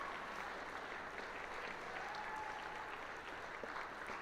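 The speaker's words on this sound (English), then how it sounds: "another huge round of applause for our winning alliance" Steady applause from a crowd at a FIRST Tech Challenge robotics qualifier fills the room, a dense, even clatter of many hands that holds at the same level throughout.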